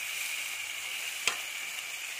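Potatoes frying in a pan with cumin seeds, giving a steady, soft sizzle throughout with one brief sharp click partway through; no talking.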